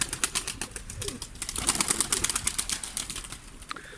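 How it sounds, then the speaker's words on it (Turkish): Pigeons flutter and flap their wings in rapid bursts nearby, a busy rustling clatter with faint cooing underneath. "Kuşlar kanat açıyor."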